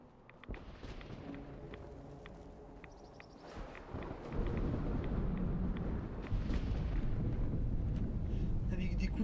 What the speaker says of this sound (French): Avec des coups de tonnerre qui apparaissent.